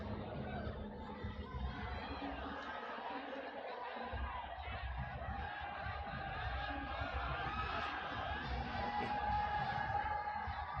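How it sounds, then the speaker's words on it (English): A stadium crowd at a Nepal versus Lebanon women's football championship match roars loudly and continuously, a dense wash of cheering and shouting voices that swells slightly toward the end. "Anxious crowd on the top of their lungs."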